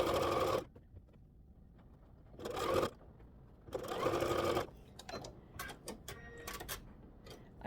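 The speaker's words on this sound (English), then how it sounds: "I just sewed that without ironing, or without pinning" A sewing machine stitches quilt rows together in several short, steady runs of fast mechanical whirring, separated by pauses filled with faint clicks and handling noises.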